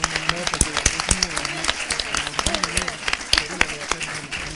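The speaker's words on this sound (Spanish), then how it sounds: "Vamos a despedir con un aplauso, por favor, a los panelistas." An audience at a Spanish-language panel discussion gives scattered, uneven applause for the panelists, with a voice speaking over the clapping throughout.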